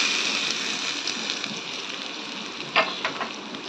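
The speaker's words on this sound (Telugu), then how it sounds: "స్టవ్ ఆఫ్ చేసుకొని పోపు ఇందులో వేసేసుకుందామండి" Hot tempering of red chilli pieces, curry leaves and a little asafoetida poured into coconut chutney, giving a steady close sizzle with a few sharper crackles toward the end, with no talking.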